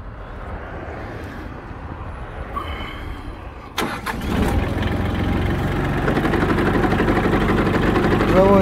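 A Mitsubishi MT165 Japanese mini tractor engine with 662 hours cranks and catches partway through, then settles into a steady, close rumbling idle that grows slightly louder.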